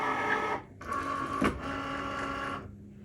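A Cricut cutting machine loads a card and begins scoring, giving a steady motorized whir with a brief clunk partway through, then a continuous hum that stops near the end.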